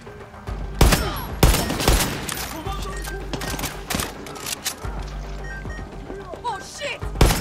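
Far Cry 6 combat: several loud close bangs from grenades and gunfire punctuate dense, rumbling in-game sound, with a person talking over the action.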